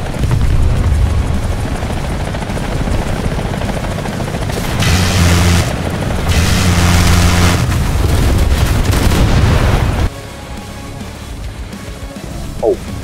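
In War Thunder, helicopters approach with a loud, steady rotor thrum, joined by bursts of anti-aircraft gunfire from a modern SPAA; the roar drops abruptly toward the end.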